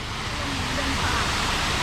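Steady broadband rush of a waterfall at a new park attraction in Surin, Thailand, a continuous even wash of falling water with no clear breaks, faint voices beneath.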